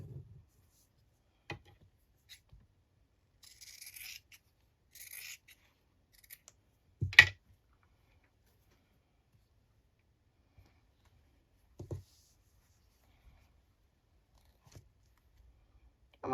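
Scissors give a few brief, quiet snips while trimming fabric for a slow stitch journal, set apart by long silent pauses with a sharper cut in the middle.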